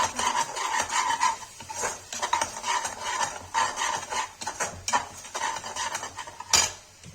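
Metal spoon stirring red chili powder and turmeric in a cooking pot, a steady run of close scraping and clinking strokes against the metal with soft sizzling underneath, no talking.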